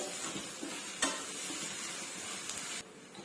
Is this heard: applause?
no